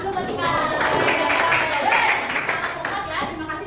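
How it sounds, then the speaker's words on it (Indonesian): A classroom of students claps for Tika in a short burst of scattered, moderately loud applause, with children's voices mixed in. "Tepuk tangan dulu buat Tika."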